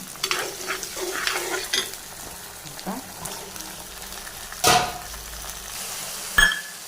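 Onions sizzle and crackle in oil in a pan with occasional stirring scrapes and clinks, a steady frying hiss under busy kitchen sounds, while making a Tamil vathal kuzhambu.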